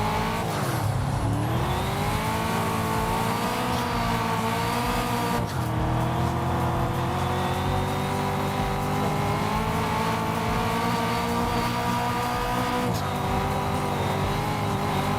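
A race car engine in a video game (Test Drive Unlimited Solar Crown) drones continuously at high revs, pitch rising and dipping as it shifts, loud and unbroken throughout.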